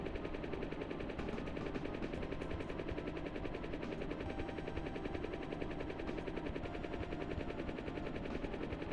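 A helicopter flies in the SNES game Pilotwings, a constant chopping rotor drone with engine hum running steadily and evenly throughout, moderately loud with no talk.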